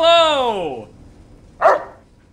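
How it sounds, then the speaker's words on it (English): A robot dog in Fallout New Vegas gives a drawn-out, falling electronic howl-like bark followed by a short sharp yip, loud and close with nothing else around it. "She's a robot dog!"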